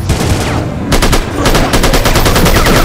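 Rapid automatic gunfire from an AK-47 style rifle in a nighttime zombie shooter game, loud and close, with a short burst, a brief pause, then sustained fast-repeating shots.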